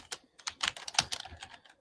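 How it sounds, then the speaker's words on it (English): Keystrokes on a computer keyboard, typed in quick irregular bursts of clicks, close and clear with no talking over them. "That's me typing to Sam"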